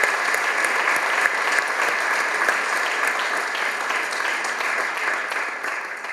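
An audience at an Advent evening concert in Kecel applauds steadily and loudly, a dense wash of many hands clapping that carries on without a break and eases slightly toward the end.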